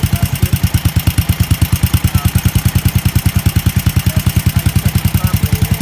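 A 1965 Sears Suburban lawn tractor's small engine runs at a steady, fast idle close by, with an even chugging pulse and light clatter throughout and no talking.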